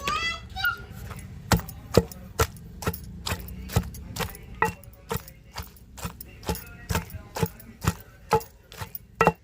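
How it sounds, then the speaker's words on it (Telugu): Ridge gourd and tomato pieces pounded by hand for a chutney, likely with a mortar and pestle, giving a steady series of sharp, close thuds in an irregular rhythm, with faint voices in the background. "బీరకాయ ముక్కలు అలాంటి టమాటా ముక్కలు వేసేసుకొని మొత్తం నూరేసుకుందాం"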